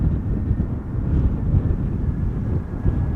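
Steady wind blowing at Amsterdam Schiphol Airport, a loud continuous low rumble buffeting the microphone with no distinct gusts or voices.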